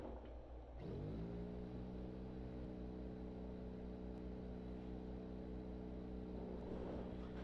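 Air compressor running inside a sound-insulated enclosure starts up after a short pause and settles into a steady, much quieter muffled hum with a low droning tone throughout.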